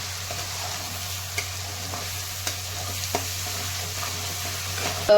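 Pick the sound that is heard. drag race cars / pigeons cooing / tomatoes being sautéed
tomatoes being sautéed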